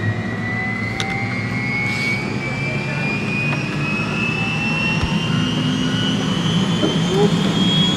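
A jet aircraft engine lights off and spools up after ignition, making a loud, constant roar under a slowly rising whine that climbs steadily in pitch.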